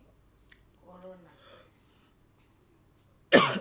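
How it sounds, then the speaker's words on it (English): A single sharp, loud cough bursts out at the very end, preceded by a few quiet murmured sounds in an otherwise hushed indoor setting. "sorry for the cough."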